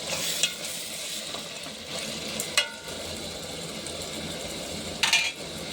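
Tomatoes with salt cooking in a pan for egg curry, a steady low sizzle with occasional sharp scrapes and clinks of a spoon stirring against the pan.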